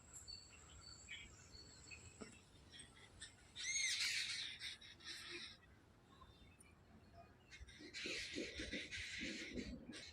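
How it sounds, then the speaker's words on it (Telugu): Sparrows and other birds chirp and call in a park in Tirupati, with bursts of dense twittering over a steady bed of insect buzz, fairly faint and spread out, with no speech. "చూడండి బర్డ్ సౌండ్స్ చూడండి కాసేపు."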